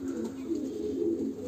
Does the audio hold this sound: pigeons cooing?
yes